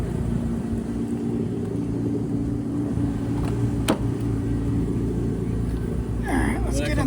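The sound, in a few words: 3000GT project car driving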